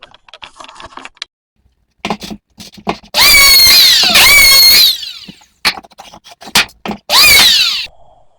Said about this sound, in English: I'm going to come back through with the planer, take those down a little bit.